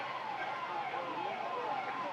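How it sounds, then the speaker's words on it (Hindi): An ambulance siren wails through crowd noise at a political rally in Jharkhand, its rising and falling tone sounding steadily across the whole stretch amid murmuring voices. "इसको एम्बुलेंस को फंसने ना दे, एम्बुलेंस को निकाल दो"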